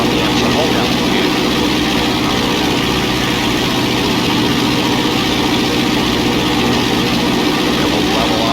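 A Piper Cherokee's engine drones loud and steady at about 2,000 RPM in flight, a constant cockpit roar filling the whole stretch with no break.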